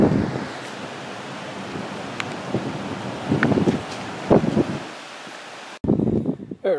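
Strong, gusty wind at a beach used for kitesurfing in Falmouth, Jamaica, roaring steadily into the microphone with surf washing underneath, a few louder buffets toward the end, and no one speaking.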